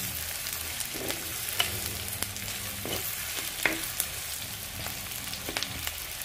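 Chicken pieces fry in a pan, a soft constant sizzle broken now and then by light scrapes of the stirring spoon, close and fairly quiet, without speech.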